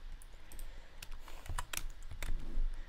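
A loud computer keyboard clatters close to the mic with quick irregular keystrokes and a few harder clacks, alone with no voices.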